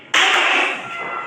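A single sharp clap from a classroom of students, a crisp burst with a short bright ring that fades quickly, heard alone.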